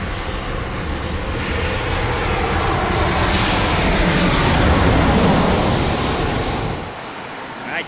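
Southwest airliner in classic retro livery flying overhead at San Diego, a loud broad jet roar that swells and then fades near the end, with no one talking over it.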